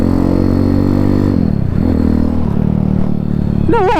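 Honda C50 motorcycle with a replacement engine on a bumpy back road, its small engine droning loud and close, dipping as the throttle eases and then climbing again in a rising rev.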